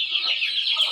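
Backyard chickens cluck in a steady, close, fairly loud chatter at afternoon watering time, with no talk over it.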